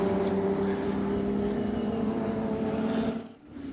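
Race cars speed down the front straight at Watkins Glen, a loud steady high-pitched engine drone held for several seconds before it briefly drops away and then returns.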